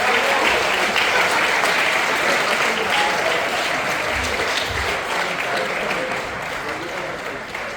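Diners at a commencement dinner applaud a country during a roll call of countries and regions, a steady, full wash of clapping that stays loud throughout and eases slightly toward the end, with voices audible in the crowd.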